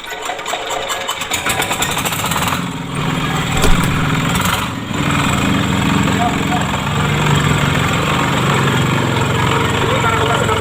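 Engine of a Kubota-brand fish feed pellet machine, long unused and recently repaired, starting up and then running steadily with a loud continuous drone and some clattering, under voices.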